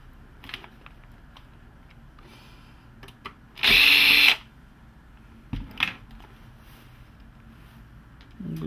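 A power screwdriver whirs briefly and loudly to back out a small silver screw with a washer from a pole bracket inside a Hitachi ED-A100 door mirror, with scattered soft clicks and handling noise before and after.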